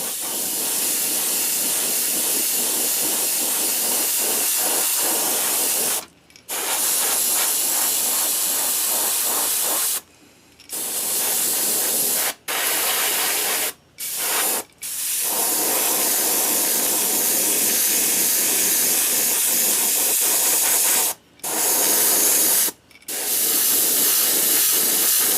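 A Revolution airbrush sprays black paint onto a popper fishing lure, giving a loud, continuous close hiss broken by several brief trigger pauses.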